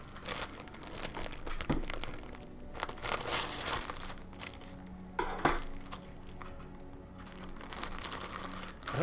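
Plastic packaging bags being handled close up, with crinkling and rustling in uneven bursts and a few sharper crackles.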